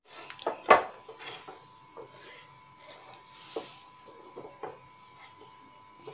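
A spoon stirs rice flour dough in a metal pot, making a few sharp scrapes and clinks followed by softer intermittent knocks and scraping.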